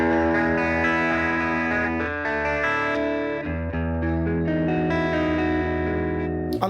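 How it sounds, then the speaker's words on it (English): Electric guitar through the Safari Pedals Twin Panda reverb and tremolo plugin, playing a bright, sizzling driven tone with sustained chords and short melodic changes, loud and unaccompanied by talk. "I like that sound. It has that sort of high-end sizzle"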